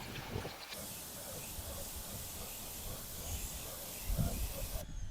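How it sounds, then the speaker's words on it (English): Water rinses CARPRO WheelX wheel cleaner off a car wheel as a steady, hissing spray that holds through the clip, with a brief louder splash near the end. "We're going to go ahead and rinse it off, and we're going to see how much of that initial dirt we actually got off."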